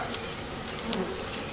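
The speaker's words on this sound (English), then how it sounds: "Bees are majorly unhappy." Faint steady buzzing of agitated honey bees during a hive extraction, a soft continuous hum with a few brief louder passes close by.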